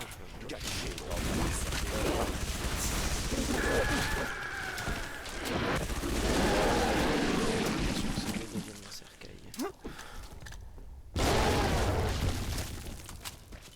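Gunfire and booming explosions from the Halo video game in flood infection mode crackle in bursts, with a denser volley midway and a short gap of quiet before the noise resumes.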